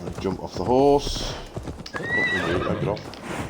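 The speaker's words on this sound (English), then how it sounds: "Jump off the horse." A horse in the video game Assassin's Creed Valhalla whinnies loudly and its hooves clop, while someone talks over the game sounds.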